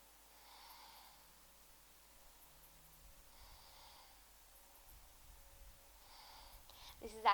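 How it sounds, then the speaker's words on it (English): Slow, quiet breaths in and out during a strength workout, about three soft airy exhales spaced a few seconds apart, with a faint low hum underneath. "inhale breath to the sides and exhale breath as we lift"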